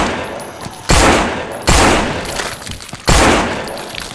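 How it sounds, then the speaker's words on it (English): Gunfire in the zombie survival game No More Room in Hell cracks out in three loud, abrupt blasts spaced about a second apart, each trailing off into a noisy decay. "Follow the gunshots."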